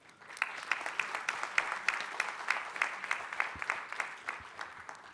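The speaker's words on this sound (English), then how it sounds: "They should deserve a big round of applause" Audience applause at a tourism leaders' summit, with many hands clapping in a steady, moderately distant wash that continues evenly throughout.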